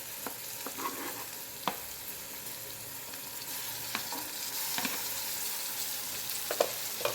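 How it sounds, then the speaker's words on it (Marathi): Finely chopped tomato frying in a pan, with a soft continuous sizzle and scattered clicks of a spoon stirring, heard alone at low level. "मी ते आता बारीक चिरलेला टोमॅटो टाकून घेते याच्यामध्ये"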